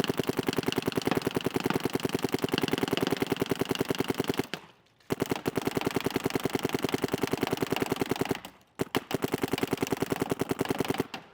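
An SP Shocker ERA paintball gun fires long, rapid strings of shots, each a sharp crack in a fast, steady rhythm, loud and close. Two brief pauses break the bursts.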